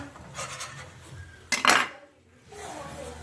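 Two metal turners work under egg foo young in a stainless steel pan with light scraping, then one sharp, loud clatter of metal on metal as it is flipped, followed by a quieter pause.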